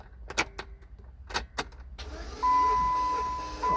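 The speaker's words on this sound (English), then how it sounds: "Uh-oh, we're not starting, but we got crank." A car with a new battery and new starter cranks but fails to start. A few clicks and knocks come first, then a sustained starter whir with a whining tone runs to the end.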